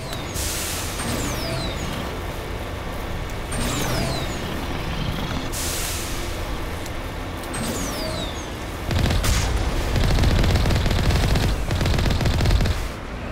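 A tank's gun blasts away at Geth in Mass Effect, loud repeated shots with whooshing projectile sweeps over a rumbling vehicle engine, growing heavier near the end.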